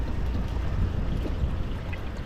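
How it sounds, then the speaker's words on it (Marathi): Water rushes steadily through a drain that was blocked and has just been opened, a continuous low churning flow with no voices. "हा आता फास्ट झालं पाणी"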